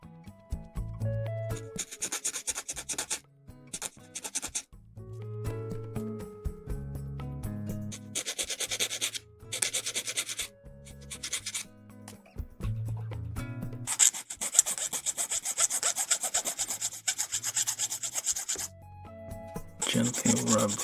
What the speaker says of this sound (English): Let the teeth of the file do all the work of scraping off the excess nub there.